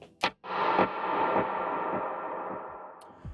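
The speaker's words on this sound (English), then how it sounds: "Then you add the reverb on top of that. It's a medium reverb." Electric guitar strikes a chord that rings out and washes into a long, gradually fading tail of delay and medium reverb.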